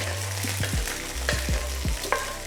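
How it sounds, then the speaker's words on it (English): Toasted nuts and oil from the pan sizzling as poured over a yogurt layer in eggplant fatteh, up close, a steady crackle with a few scraping stirs. "You will hear that signature sizzling sound"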